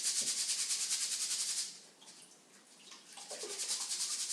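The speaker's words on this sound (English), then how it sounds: "just use the boiling water to take out some of the starch that's in that rice" Boiling water pours over rice in a sieve to rinse out starch, a steady loud splashing hiss that eases off briefly midway and then surges back, with no talking.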